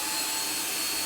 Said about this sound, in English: let's go ahead and test out this vacuum and see how good it does with cleaning up these little rice